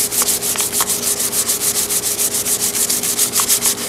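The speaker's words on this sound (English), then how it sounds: "Now before I put the whole thing together, I'll do a little hand sanding" Sandpaper rubs by hand along a wooden hammer handle in quick, even back-and-forth strokes, close and steady, about two strokes per second with no talking.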